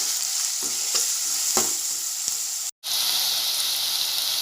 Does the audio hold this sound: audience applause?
no